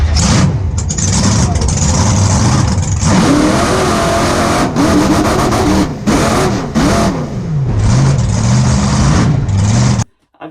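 A monster truck engine at a UK monster truck nationals show revs and accelerates hard, running loud and continuous, rising and falling through the gears before cutting off abruptly near the end, with faint voices under the roar.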